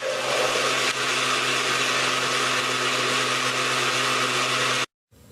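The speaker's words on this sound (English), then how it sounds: "Blend for 1 minute." Blender whirring as it mixes lecithin with distilled water, a loud steady motor hum with a harsh buzzing tone for about five seconds, then it cuts off abruptly into near silence.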